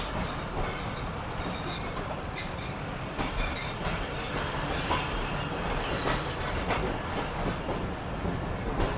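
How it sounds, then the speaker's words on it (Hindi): Karakoram Express pulling away and running, a steady close rolling rumble with wheel squeal and occasional clicks over the rails, continuous throughout with no voices. "तभी हमारी ट्रेन को यहाँ से रवाना किया गया है।"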